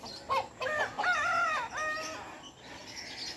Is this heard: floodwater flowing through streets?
no